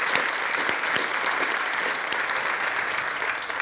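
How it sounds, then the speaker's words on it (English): A crowd claps for a middle school choir at a community forum, even, moderately loud applause holding steady throughout the short stretch. "Let's give another round of applause for our Gray Middle School Choir"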